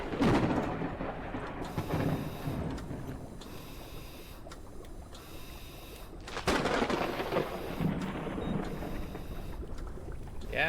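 Thunder from a close forked lightning strike in the airship survival game Forever Skies, heavy rumbling bursts rolling over a steady wash of wind and water, with a loud crack around the middle followed by a long fading growl.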